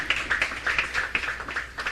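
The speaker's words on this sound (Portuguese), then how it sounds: "Vamos aplaudir o Senhor." A church congregation applauding together, a steady run of many hands clapping in quick, uneven bursts, moderately loud and close, with no voices over it.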